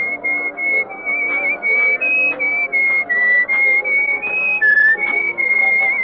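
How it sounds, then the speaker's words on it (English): A person whistles a melodic tune alone, a clear, sustained high line with small pitch shifts and brief breaths between phrases, steady and close over six seconds. "you were whistling our tune"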